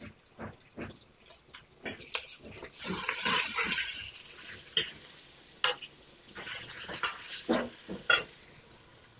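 Tomatoes dropped into onions frying in a pan for a brinjal curry give quiet sizzling with scattered clatters and stirring scrapes, faint and close, with no talk over them.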